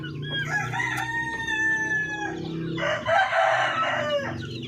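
Darag native chickens on a Filipino farm, with a rooster crowing loudly and nearby and other fowl clucking around it, a second crow rising near the end; no talking.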